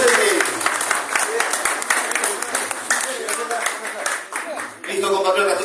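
Audience applause for an honoured guest at an ideological training school class, a dense, sustained clatter of many hands over nearly six seconds, loud and close, thinning briefly near the end with voices mixed in.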